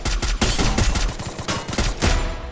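Rapid bursts of video game gunfire from a Morse character challenge match, dense overlapping shots and machine-gun volleys, loud and close throughout.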